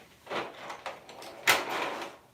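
Drawers in a cosmetics storage unit slide open and shut in a quiet room, giving a few soft scraping and clunking movements with one sharper knock near the middle, with nobody speaking.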